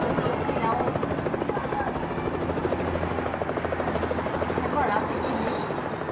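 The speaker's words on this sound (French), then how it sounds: "T'as l'hélicoptère, ils prennent les photos aussi là-haut." A helicopter hovers overhead at a public event, carrying photographers; its steady, pulsing rotor chop stays loud and continuous throughout, with crowd noise underneath.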